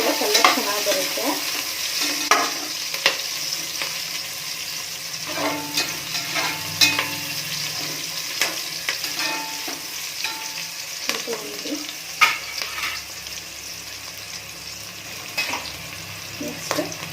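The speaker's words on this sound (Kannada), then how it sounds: "ಈರುಳ್ಳಿ ಹುರಿಯುವಾಗ ಈರುಳ್ಳಿನ ಸ್ವಲ್ಪ ಬಿಡಿ ಮಾಡ್ಕೊಳ್ಳಿ." Onions frying in a pan while being stirred for cabbage rice bath: a steady soft sizzle under frequent scraping and tapping of a spatula, fairly quiet and close, with no voices.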